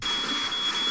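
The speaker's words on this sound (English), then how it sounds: "that's the fire alarm!" A fire alarm gives a faint, high, thin beeping tone that persists under a loud, broad rushing noise for a single second.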